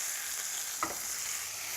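A steak fries in a pan with thyme and butter, giving a constant bright, close sizzle with one short clack partway through.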